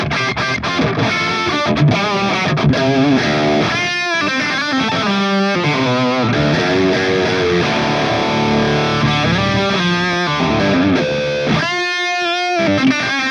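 Electric guitar played through a Mooer GE200 multi-effects unit on a Friedman amp profile with heavy reverb: loud, continuous distorted chords and riffs with ringing sustain and brief gaps, no talking.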